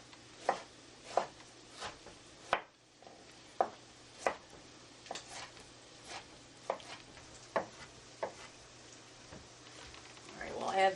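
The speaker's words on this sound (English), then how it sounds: "And now I'm going to chop 2 tomatoes" A knife chops two tomatoes on a cutting board in a home kitchen, giving about a dozen distinct, fairly close thuds at an uneven rhythm, with faint sizzling of sautéing onions behind.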